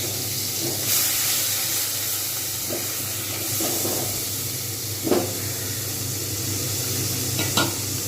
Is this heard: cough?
no